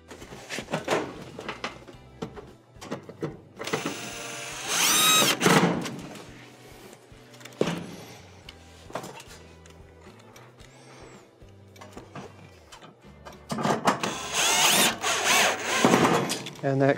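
A power driver sets two screws into the rear cover of a Whirlpool, Maytag or Kenmore stove, giving short whirring bursts separated by quiet handling and clunks.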